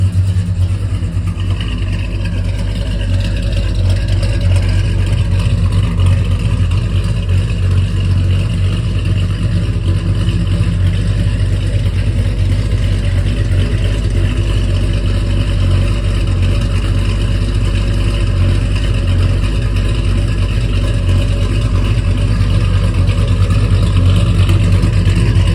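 A Chevelle/El Camino with a ZZ502 big-block and Sanderson intermediate headers running under way, giving a loud, steady low exhaust rumble heard close up inside the car, no voices.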